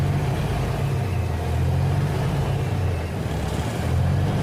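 A 1986 International 9670 cabover truck with a Big Cam Cummins engine idles steadily, a deep, even diesel rumble running loud and close throughout.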